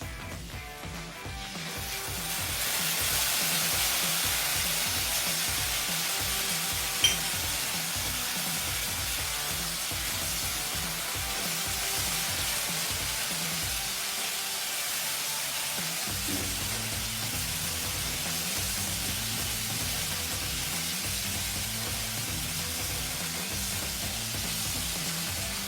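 Tomatoes fry in a pan while a semolina dish is cooked, giving a steady broad sizzle with a rhythmic low tapping underneath and a brief pause partway through.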